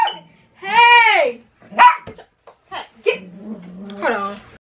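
Dogs give loud, close, pitched yelping barks and a whining howl in short bursts, mixed in with a person talking nearby.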